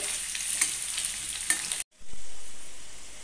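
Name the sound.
cut potatoes deep frying in oil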